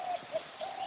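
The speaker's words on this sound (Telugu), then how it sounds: "పిట్టలు ఏమో సౌండ్ వినబడుతున్నాయి." Short soft bird calls, likely doves cooing, in a jungle setting, coming in a few faint repeated notes with no one talking.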